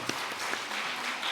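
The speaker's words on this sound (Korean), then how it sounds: "우리 힘찬 박수 부탁드립니다." A congregation at an afternoon praise service in a church in Masan gives a short, dense round of steady applause, filling the room evenly.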